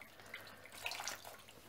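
Clean water runs and splashes softly while a sauerkraut container is washed out, a faint, uneven trickle with a few brighter splashes.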